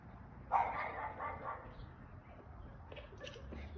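A neglected dog in a residential neighborhood barks in a short, loud burst near the start, then trails off into quieter background noise.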